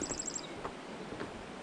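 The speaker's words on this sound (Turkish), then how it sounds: "Güzel kuş sesleri" Birdsong along a mountain path between two peaks, near a stream: a short run of quick high chirps at the start, then sparse faint calls over steady outdoor background, no talking.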